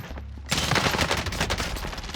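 Sudden loud gunfire bursts out in Call of Duty Warzone during a drop shot, a rapid, dense volley of shots following a quiet moment, close and unbroken by speech.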